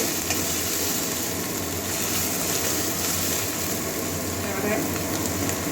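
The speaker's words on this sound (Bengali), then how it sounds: "এবারে আদা রসুনের পেস্টটা দিয়ে দিচ্ছি এক চামচ মশলাটা কাঁচা গন্ধ যাওয়া পর্যন্ত ভেজে নেব" Ginger garlic paste frying in a pan of hot oil, a steady loud sizzle and hiss that holds evenly throughout, close and continuous.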